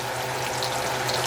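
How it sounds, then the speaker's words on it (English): Bacon sizzles in a hot frying pan with a dense, steady crackle and hiss, up close and constant, with no voices over it. "the temperature difference of the bacon is significantly higher than the actual pan, so it'll sizzle a lot more"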